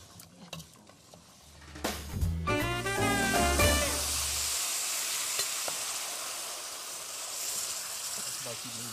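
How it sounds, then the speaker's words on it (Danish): Rice frying in oil with garlic in a pan: a few clatters, then a loud burst of sizzling as the rice goes in, settling into a steady hiss. "risene skal jo igen lige have lov til at stå og riste en lille smule med og suge noget af al den her gode olie og hvidløg i sig"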